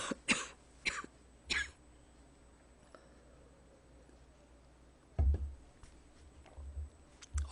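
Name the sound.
coughing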